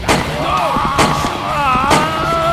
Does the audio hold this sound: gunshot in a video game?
yes